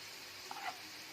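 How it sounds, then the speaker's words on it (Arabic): Liver frying with onions in a pan, a soft steady sizzle with a brief clatter at the end. "دلوقتي بدات الكبده تتشوح مع البصل زي ما انتم شايفين كده"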